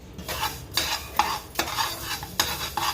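Niger seeds and coriander seeds dry roasting in a pan, a loud dry rustle of stirred seeds in repeated bursts, several scraping strokes close by with no talk.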